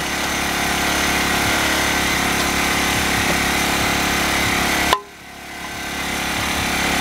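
An electric drill fitted with a 3/4 inch spade bit runs on a Ryobi RYi1000 1000-watt inverter generator, a loud steady engine and motor drone that dips sharply under a sudden load and then climbs back up.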